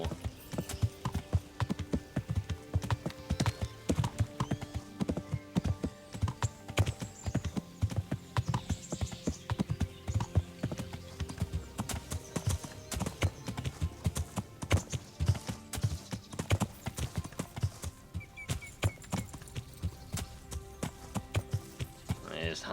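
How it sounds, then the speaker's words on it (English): Horse hooves clip-clop continuously over ground in the Kingdom Come Deliverance game, a steady rapid walking rhythm that stays close and prominent throughout, with game music and occasional character voices underneath. "There's Hans's horse."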